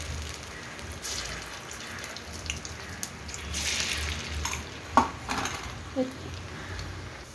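Moong dal pakoras fry in very hot oil with a soft, continuous crackling sizzle, broken by occasional clinks of a utensil against the pan, while a person talks quietly over it.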